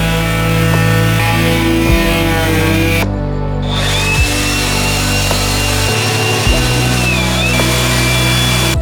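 Van surfaces being hand-sanded with 400 grit sandpaper: a steady, close, rasping rub that runs without pause, with no talking.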